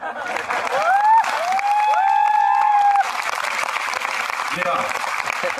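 Audience applause at a wellness mega show, a dense steady wash of clapping that runs the whole length. Loud tonal whistles or cheers rise over it in the first three seconds.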